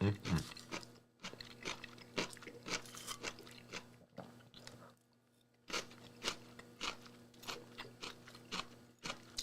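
Someone bites and chews crunchy raw cauliflower close to the mic, a steady run of crisp crunches and bites with short pauses, quiet overall.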